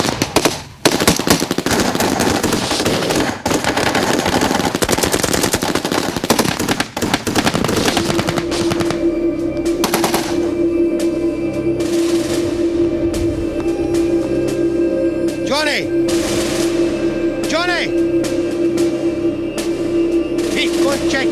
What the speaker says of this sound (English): The medic has to leave his patient and engage in the firefight.